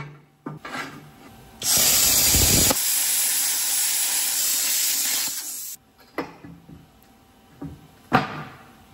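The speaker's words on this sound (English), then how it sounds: "just using the plasma cutter" Plasma cutter cutting tabs from steel for a box section, a loud continuous hiss lasting several seconds, framed by shorter clicks, knocks and brief hisses close by.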